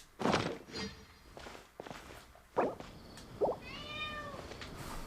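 A cat meows in the game Genshin Impact, with short mewing calls and thumping in-game footsteps spread across a few seconds of moderately quiet game audio.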